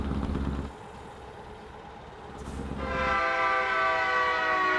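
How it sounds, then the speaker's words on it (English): A loud train rolls past nearby, a deep rumble of rail cars building and then giving way to a sustained, multi-toned horn blast that holds through the last couple of seconds. "Fuck, that train was loud."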